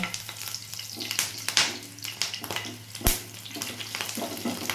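Nigella seeds and slit green chillies frying in hot oil, stirred lightly: a steady sizzle with scraping spoon strokes and occasional sharp clinks, one louder knock near the end, no talk.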